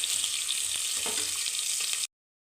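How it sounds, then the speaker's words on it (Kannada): Onion slices sizzle steadily in a hot pan, a dense, even crackle with faint stirring knocks, cutting off abruptly after about two seconds. "ಇದು ಸ್ವಲ್ಪ ಬಣ್ಣ ಚೇಂಜ್ ಆಗೋವರೆಗೂ ಸ್ವಲ್ಪ ಫ್ರೈ ಮಾಡ್ಕೊಳ್ಳಿ"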